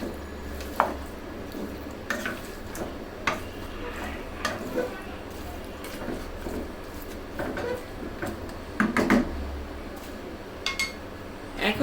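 A spoon stirs sweet-sour-spicy beef in a pot, with scattered clinks and scrapes against the metal, moderately close, irregular and spaced out over a low background rumble.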